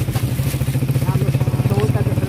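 A motorcycle engine runs steadily at close range with a rapid, even pulsing throb, loud and continuous for a couple of seconds while someone rides it.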